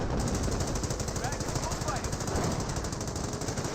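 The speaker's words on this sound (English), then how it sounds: "snipers firing away" Sniper shots and machine gun fire in the World War II strategy game Company of Heroes, a dense, continuous rattle of rapid gunfire filling the whole stretch without letup.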